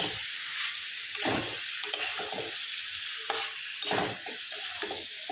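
Prawns sauté in a pan while being stirred, a continuous close sizzle broken by several louder scraping stirs, with no voices.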